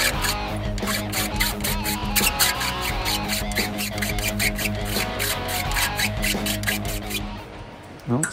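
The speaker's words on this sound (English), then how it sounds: "I'm going to try it first with the file and see how it goes" A hand file worked across seat pan material makes close, rhythmic rasping strokes, a steady back-and-forth scrape repeating about twice a second throughout.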